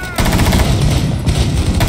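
Dense, continuous rapid gunfire from the video game Rainbow Six Siege rattles loudly and without pause.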